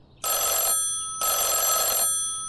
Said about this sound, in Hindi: अगली सुबह की शुरुआत होती है अलार्म क्लॉक से नहीं, बल्कि हमारे मामा जी के फोन कॉल से